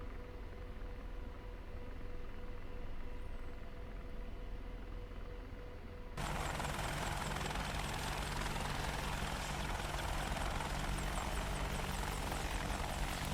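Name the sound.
Apache helicopter lifting to hover, video game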